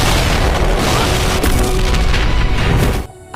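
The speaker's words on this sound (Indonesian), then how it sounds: "Akibat ledakan yang diciptakannya, membuat tubuh Shiro lemas tak berdaya" A loud, sustained explosive roar from an anime battle, with crackling debris, fills the clip for about three seconds, then cuts off abruptly into near silence.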